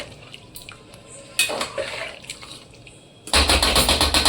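Water poured into a pot of chicken pulao, a brief quiet trickle followed by a loud, steady rushing pour close by that runs to the end.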